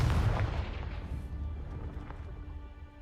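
A Confringo fire-blast spell in the video game Hogwarts Legacy erupts with a loud, deep booming burst at the start, then rumbles and fades over a few seconds with a lingering low tail.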